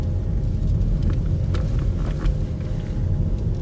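Kia e-Niro electric car on a twisty road in the Lakes near Ambleside, heard from inside as a steady low road rumble and wind noise with faint tyre sounds, no talk.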